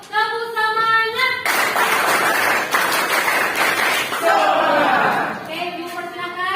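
A school class claps in a quick, rhythmic 'tepuk semangat' pattern for a few seconds, with voices chanting before and after the clapping.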